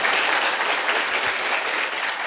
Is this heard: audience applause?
yes